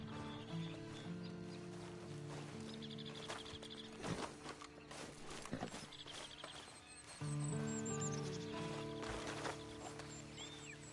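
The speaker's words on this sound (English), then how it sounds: "Then you better get on this horse." Horse hooves clip-clop in the Red Dead video game, quiet rhythmic footfalls under a game soundscape with faint background tones and scattered clatter.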